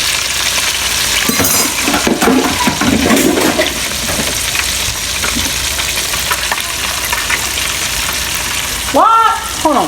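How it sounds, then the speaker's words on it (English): Fish fries in hot grease in a home kitchen, a continuous loud sizzle and crackle filling the whole stretch, with occasional clinks and a short burst of voice near the end. "Fish is frying real good."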